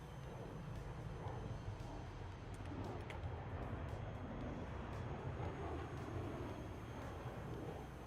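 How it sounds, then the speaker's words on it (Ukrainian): Propeller aircraft engine drones steadily overhead in the War Thunder air combat game, a continuous broadband roar with faint clicks, no talking. "Це літак по мою душу"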